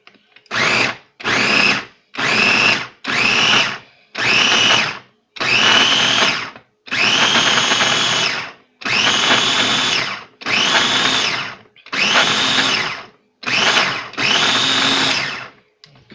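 A kitchen blender chops fresh red salsa ingredients under a closed lid in about a dozen loud, close pulses of roughly one second each, separated by brief pauses.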